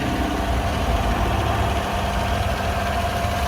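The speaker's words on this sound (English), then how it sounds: "See that V8 engine idling very happily off of this cold start." A 2015 Chevrolet Tahoe LTZ 4WD V8 idles after a cold start, giving a steady, even rumble heard close up and on its own with no talk.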